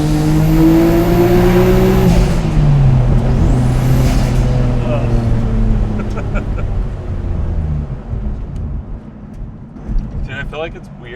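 A Nissan R33 GTR with an RB26 engine revs hard in a tunnel, its loud rising engine note echoing before easing off, with people talking over the roar.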